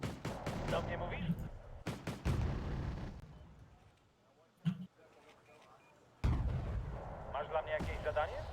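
A Gazelle cannon fires in a video game, giving several heavy booming blasts in clustered bursts, separated by quieter gaps with faint background game noise and brief voice chatter.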